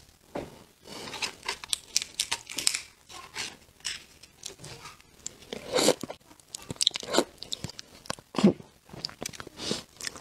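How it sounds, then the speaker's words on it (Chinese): Close, crisp crunching and wet chewing of small red shrimp, with irregular bites and tearing shell sounds spread across the whole stretch, intimate and near. "今天咱们来吃红磨虾，听说这个虾脑都是甜的，咱们来尝一下。"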